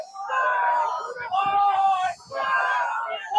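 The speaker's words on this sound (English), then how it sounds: "We're hearing some funny chants from them" Macalester fans chanting in unison on the sideline of a club soccer match against Iowa State, three loud sustained sung phrases from a group of voices, close and rhythmic with brief pauses between them.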